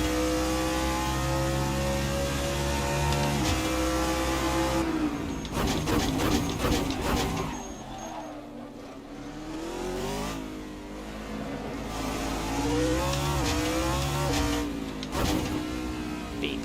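GT3 race cars in Assetto Corsa during a multiclass two-hour race at Fuji, their engines revving hard and shifting up and down through gears, with several cars passing close by in steady, loud succession.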